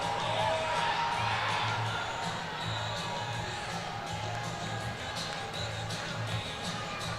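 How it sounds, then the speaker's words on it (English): An arena football crowd cheers and roars in a steady, dense wash of noise that fills the whole stretch, with scattered voices shouting within it. "One last time. Cheer him on real loud."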